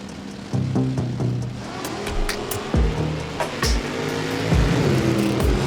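Justin Hutto's drag racing car making a pass at an NHRA event in Texas in 2019, engine tone rising and falling with several sharp bursts and changes in pitch, fairly loud and close, with no voices.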